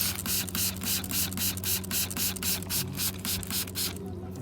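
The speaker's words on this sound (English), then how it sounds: "We're gonna spray it down one more time and let it set for a couple minutes." A hand spray bottle is pumped over a pumpkin vine in a garden, giving a steady run of short, evenly spaced hissing bursts at close range, with no talking.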